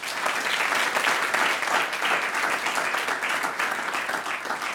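A seminar audience at KTH Royal Institute of Technology gives a warm round of applause, loud, dense and sustained clapping that stays even throughout, close and full.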